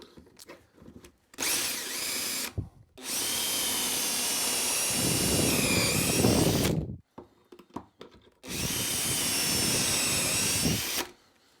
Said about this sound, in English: use these two outside holes, these guides, to drill the holes.